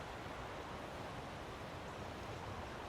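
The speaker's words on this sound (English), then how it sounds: "You might hear the waves crashing here on the lava rocks by me" Ocean waves break against lava rocks on a shoreline, a steady, fairly quiet broadband wash with no distinct individual crashes, continuous throughout.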